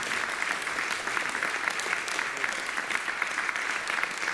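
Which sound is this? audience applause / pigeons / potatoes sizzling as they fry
audience applause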